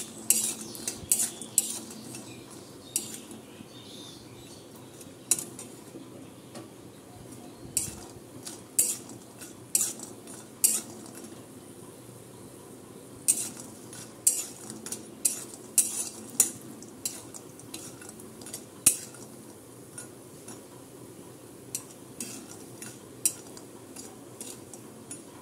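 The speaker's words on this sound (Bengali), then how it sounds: "এর বড়ি দুটোগুলোকে নেড়ে চেড়ে ভেজে নেব" Lentil bori frying in oil in a pan, stirred with a metal spoon: frequent sharp clinks and scrapes against the pan over a faint continuous sizzle, close and fairly quiet, with no talking.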